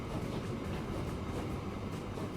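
A steady, dense rolling rumble of a train in the Transport Fever 2 simulation game, running continuously at an even loudness throughout with no voices.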